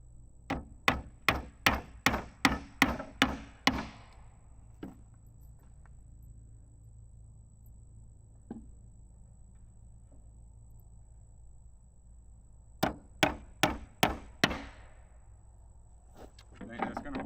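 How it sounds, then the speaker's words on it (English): Hammer blows drive nails into pallet boards for a firewood shed: a quick run of about eight sharp strikes, a long quiet gap with a couple of isolated knocks, then another burst of about six strikes, close and loud. "get some of these hammered down"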